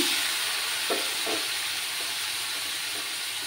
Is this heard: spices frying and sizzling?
yes